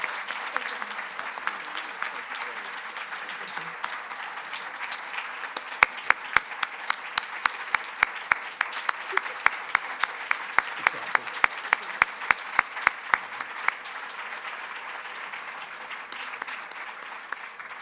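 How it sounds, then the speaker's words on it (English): An audience at an annual meeting applauds a farewell, a long, even wash of clapping with a few sharper nearby claps standing out in the middle. "the strongest applause that we can give them"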